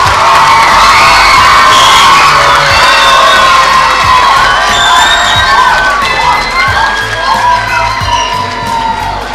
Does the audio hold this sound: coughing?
no